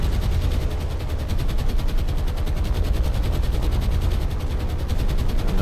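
Anti-aircraft gunfire rattles continuously in the naval combat game War on the Sea, a dense, loud stream of rapid shots with no pauses and no speech.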